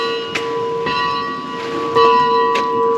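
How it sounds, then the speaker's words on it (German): Church bells ring near a ski hut in the Tyrolean Oberland, Austria: several clear, sustained metallic strikes with long ringing tones, fairly loud and close, repeating at roughly half-second intervals. "läutet die Glocken"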